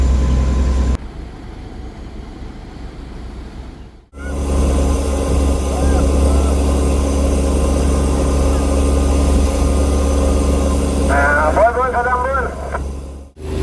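A fishing boat setting out at dawn, its engine giving a loud, steady low drone that briefly drops out near the start, with someone talking over it throughout.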